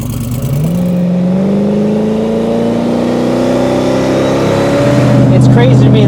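A 2000HP Ford Mustang on the street, its engine revving up through rising pitch in a long smooth pull, loud and close from inside the car, with people talking.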